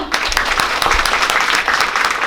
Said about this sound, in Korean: 한 분 한 분 소개해 드릴 때마다 큰 박수로 환영해 주시기 바랍니다